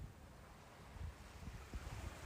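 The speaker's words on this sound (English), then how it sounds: "The ocean beyond the open windows moves in slow silver waves beneath the moonlight." Ocean waves wash slowly and softly beneath open windows on a warm summer night, a faint, steady surf hiss with gentle low swells and no voices.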